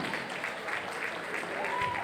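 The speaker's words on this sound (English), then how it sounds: "can we have a huge round of applause, please, Zafik Bire, for the amazing bridal party" Wedding reception guests clap steadily for the bridal party, a dense, even patter of applause filling the room from start to finish.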